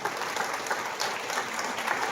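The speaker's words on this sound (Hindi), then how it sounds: "एक बार सभी लोग खड़े होकर संदीप जी के लिए ताली बजाएंगे" A standing audience claps together at a gathering, a dense, even wash of applause heard from a moderate distance, fairly faint and continuous throughout.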